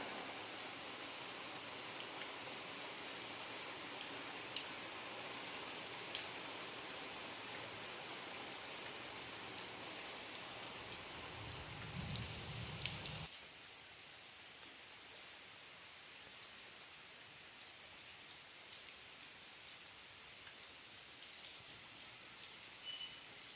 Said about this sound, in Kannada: ಆಚೆ ನೋಡಿದ್ರೆ ಜೋರು ಮಳೆ ಬರ್ತಾ ಇದೆ